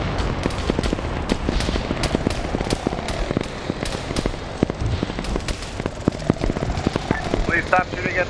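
Rapid bursts of gunfire crackle continuously through a Starship Troopers game battle, dense overlapping shots with explosions and a voice talking over the din.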